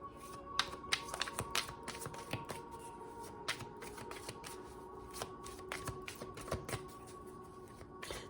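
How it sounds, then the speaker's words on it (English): Playing cards are shuffled and drawn, with quick crisp riffles and flicks in an irregular stream of close, fairly soft snaps. "Now it's making me want to get another card."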